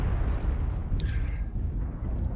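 A missile explodes in the MechWarrior Online mech combat game as a steady, loud low-frequency rumble and roar that holds through the whole moment, with a faint high tone briefly rising above it.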